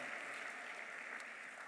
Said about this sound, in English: we can clap for that, that's good.